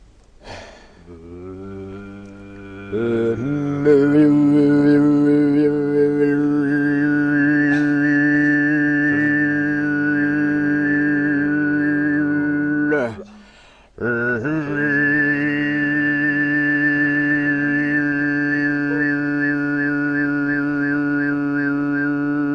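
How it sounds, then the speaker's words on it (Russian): A sustained throat-singing drone with a bright overtone whistling above it, holding long tones with one brief break partway before resuming. "практика горлового пения."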